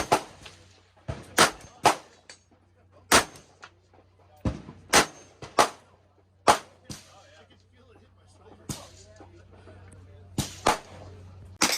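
Firearm shooting at an outdoor range during a trade-show range day: sharp, loud gunshots fire one by one at an uneven pace, some in quick pairs, over a low background hum.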